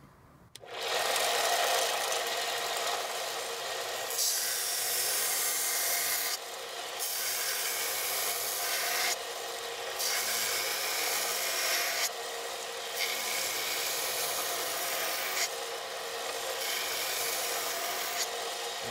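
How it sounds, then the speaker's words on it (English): Belt grinder with an 80 grit belt grinding a knife blade, a loud, steady abrasive hiss that breaks off briefly several times as the blade is lifted and pressed back to the belt. "I've got an 80 grit belt on my grinder"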